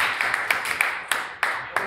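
Audience applause at a pan-African gathering in Tataguine, heard as a few scattered, sharp claps over a murmur of voices, fairly thin and sparse rather than a full ovation.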